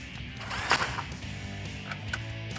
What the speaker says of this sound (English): Grab your 10mm socket and tighten it down.